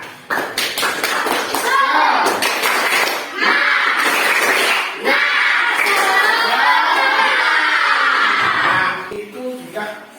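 A school class does a spirited clapping chant, children shouting and clapping together in loud rhythmic bursts, with short pauses between phrases and scattered taps as it winds down.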